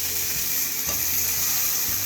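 A burger patty topped with cheese fries in a hot pan, a loud continuous sizzle close by, with a couple of soft scraping bumps as it is turned.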